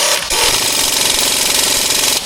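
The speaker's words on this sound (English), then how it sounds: "it took all the beans from this impact to take these off" An impact wrench hammers brake caliper bolts tight on a car, one loud continuous rattling burst lasting about two seconds, close up in a shop.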